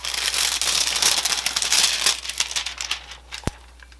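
Heat-applied Christmas foil is peeled off a tumbler, making a close, continuous crinkling and crackling rip that fades toward the end and finishes with a single sharp tap.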